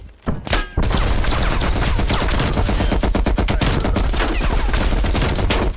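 An M60 machine gun fires in Call of Duty: Black Ops Cold War, loud and close. One short shot is followed by a sustained, dense automatic burst that runs steadily to the end.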